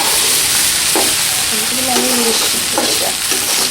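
Cabbage and capsicum stir-fry in a hot pan for vegetable fried rice, a loud, steady sizzle broken by scraping stirs.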